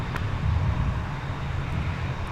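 An airliner departs Minneapolis–St. Paul Airport, its engines a steady low rumble with broadband roar heard from a distance, fairly even throughout with no speech.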